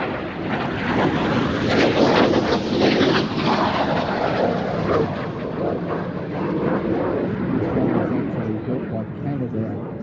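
A North American F-86 Sabre swept-wing jet fighter roars past at an air festival, a loud broadband jet rush sustained throughout with wind buffeting, while a commentator talks over it.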